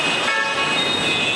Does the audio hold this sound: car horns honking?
yes